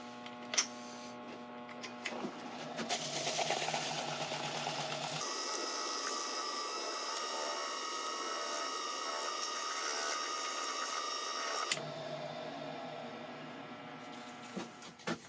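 A spalted birch bowl is buffed on a woodturning lathe, giving a steady whirring hum with a rougher, brighter friction sound in the middle stretch and a few clicks at the start and end.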